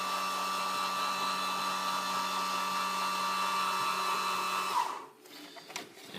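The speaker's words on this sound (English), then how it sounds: "speed brake going down" A speed brake deploying and retracting: a steady motorized whine that cuts off abruptly near the end, followed by brief mechanical clunks, fairly close with no talk.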